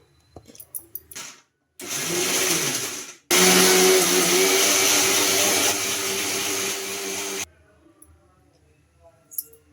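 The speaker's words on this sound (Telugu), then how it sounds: "కొద్దిగా వాటర్ అయితే వేసేసుకొని గ్రైండ్ చేసుకుందాం" A mixer grinder whirs loudly in two bursts while grinding chutney with a little water, a short run and then a longer sustained grind, with quiet clicks and handling noise before and after.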